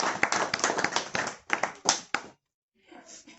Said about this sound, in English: Then guys, just clap for her. Clap for her.